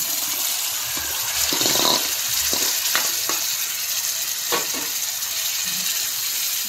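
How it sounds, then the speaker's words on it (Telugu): Mushrooms hit a pan of browned onions in hot oil and fry with a bright, steady sizzle, broken by a few scraping stirs and soft clacks close by. "ఇప్పుడు మనం ముందుగా మిక్స్ చేసుకున్న మష్రూమ్ని వేసుకోవాలి."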